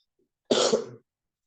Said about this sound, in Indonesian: Maaf, saya sedang sakit sedikit batuk tadi